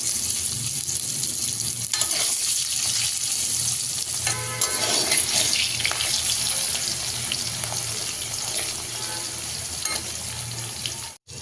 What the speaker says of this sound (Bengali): ওই তেলে আমি আলুটাকে ফ্রাই করে নেব।